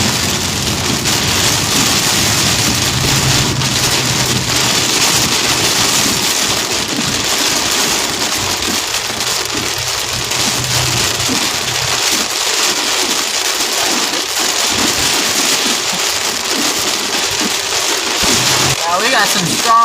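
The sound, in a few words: strong winds and heavy rain in thunderstorm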